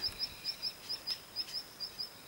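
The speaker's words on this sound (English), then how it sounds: "You can just hear the birds and see the birds, the river." Bird outdoors by a river repeating a thin high chirp roughly every quarter second in an even rhythm, faint and distant over quiet background.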